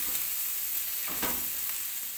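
Chili stirred into a meatball mixture frying in a pan, a steady quiet sizzle broken by a few soft scraping strokes of the spoon, with no voices.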